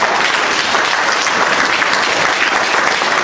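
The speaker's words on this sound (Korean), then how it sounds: "이럴 때는 박수 좀 쳐야지" Sustained audience applause fills a lecture hall, dense and steady clapping from a large crowd throughout with no break.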